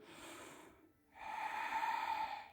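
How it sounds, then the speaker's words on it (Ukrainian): Someone takes a deep breath during a yoga exercise, heard close and soft in two airy phases split by a brief pause. "Заключний глибокий вдих."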